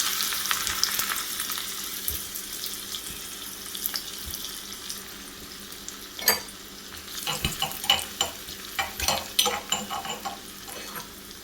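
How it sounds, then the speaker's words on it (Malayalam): Coconut pieces sizzle in hot fat in a pan while making rice-flake payasam, with a steady crackling hiss throughout and a few louder stirring clatters and bursts toward the end. "ഇനി ഇതിലേക്ക് നമുക്ക് കുറച്ച് തേങ്ങാക്കൊത്തും കൂടെ വറുത്തെടുക്കാം."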